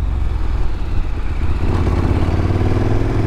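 Steady engine drone of a 2018 KTM Super Duke GT motorcycle riding at speed in fifth gear around 70 mph, with a constant low rumble and wind noise and no voices.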